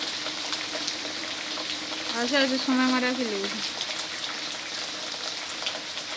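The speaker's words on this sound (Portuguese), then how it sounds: "É a chuva do milho, né?" Steady rain falls outdoors on a rainy, sunny day in mid-March farm country, a constant hiss throughout, with a person briefly speaking over it.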